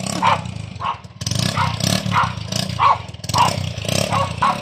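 A dog barks repeatedly in a steady rhythm, fairly close, over a low rumbling engine.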